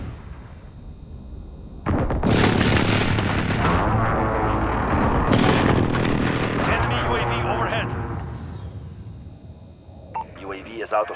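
Enemy precision airstrike in a video game: a sudden loud rumbling blast sequence with heavy booms sustained for several seconds, then fading, with a radio-style voice speaking in places.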